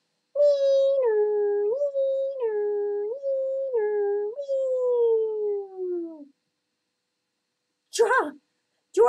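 A young child imitates an ambulance siren with a wavering two-tone voice, rising and falling several times before sliding down and trailing off, followed by brief adult speech.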